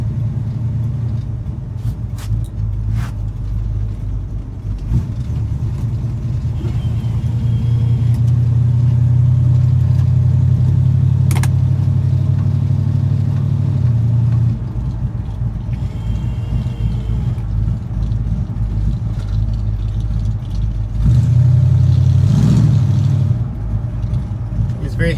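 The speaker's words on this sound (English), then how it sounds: "Oh, I do like the sound of that cam. It is nice and lumpy." A Chevy C10 with a lumpy cam and an even-posi rear idles and rumbles up close, its low choppy engine note swelling in a couple of revs, with people talking over it at times.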